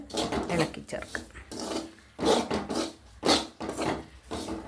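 Powdered turmeric, chili and a pinch of fenugreek are stirred into an onion curry in a pan, a rhythmic scraping and rubbing in repeated strokes, close by.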